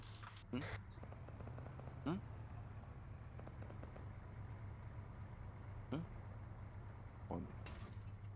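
Scattered gunfire from along a road in the Arma 3 military game: several distant bursts and single shots at irregular intervals, fairly faint beneath a steady vehicle drone.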